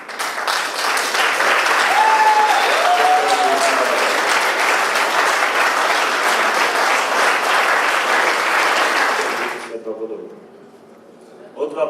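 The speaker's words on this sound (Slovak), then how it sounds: "zaslúžia si ale potlesk všetci" Audience applause at the Rescue Lesnica 2016 award ceremony: loud, dense clapping that fills most of the stretch, with a brief whistle-like tone early on, then cuts off sharply and leaves quiet room sound.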